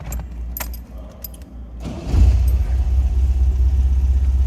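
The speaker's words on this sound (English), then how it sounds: "let's go ahead and fire this up so you can hear it run." A 1972 MG MGB engine cranks and catches around the two-second mark, then settles into a loud, steady low idle rumble, preceded by keys jangling in the ignition.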